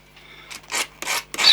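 A sharp hand scraper rasps glue off a water tower model part in three quick, close scraping strokes, each louder than the one before.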